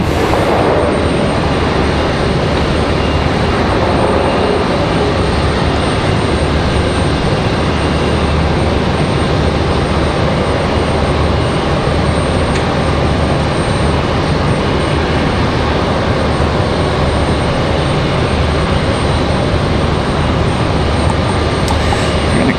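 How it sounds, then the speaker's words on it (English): A Frontier Airlines jet arriving from LaGuardia lands, its engine roar a loud, steady broadband rumble that holds for the full stretch without pause. "Frontier Airlines, our next arrival here. Frontier 3313 coming in from LaGuardia."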